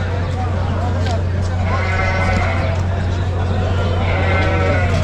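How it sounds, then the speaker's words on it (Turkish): Several Kangal-type rams bleat at a livestock market over a continuous background of crowd chatter and a low hum, the wavering calls repeating across the scene. "Kangal tipi erkek koyun bunlar."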